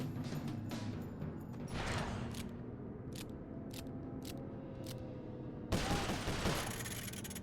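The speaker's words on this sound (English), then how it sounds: "Now that's what I call shooting." Gunfire in the PlayStation 3 game Sly Cooper: Thieves In Time, a rapid crackling volley of repeated shots over a dense game soundscape, with a louder burst near the end.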